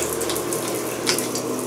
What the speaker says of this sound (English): Shower won't turn off.